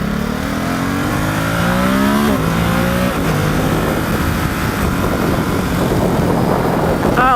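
A 2018 Ducati SuperSport S motorcycle accelerates hard, its engine rising in pitch through quick-shifter gear changes, loud and continuous with wind noise from the ride.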